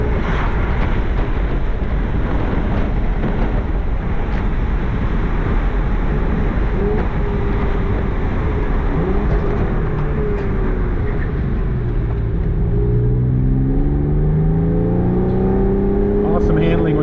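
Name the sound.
2005 Porsche 911 Carrera 4S driving, factory sport exhaust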